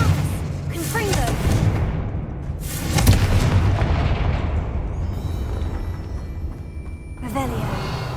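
Confringo fire spell blasting in Hogwarts Legacy, a loud booming explosion with a rumbling tail, followed by a second swell of blast noise near the end, amid game sound.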